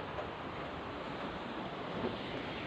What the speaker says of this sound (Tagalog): So, nanapod diri ang hangin.